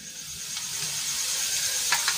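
Hot oil being poured over spices for a Gujarati carrot pickle, giving a steady close sizzle and hiss that rises with a couple of brief louder crackles near the end, with no voices.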